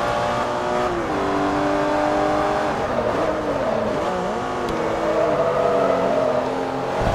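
A Ferrari engine driven in the racing game Forza Motorsport 3, revving loudly and continuously, its pitch rising and dropping through gear shifts and throttle changes, with no speech.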